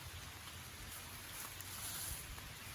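Steady rain falls outdoors, a soft, even hiss of drops with a faint low rumble beneath, continuous and fairly quiet throughout with no clear voices.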